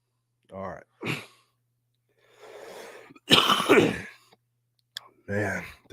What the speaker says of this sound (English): the cough is coming back.